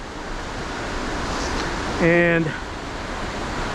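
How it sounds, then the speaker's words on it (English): The white water rapids of the Youghiogheny River rush continuously in the distance, a steady broad roar through the trees. A voice briefly speaks over it. "all this white water down here we see ahead through the trees of the Youghiogheny River, that white water"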